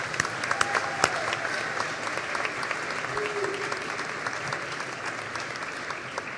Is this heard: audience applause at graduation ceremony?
yes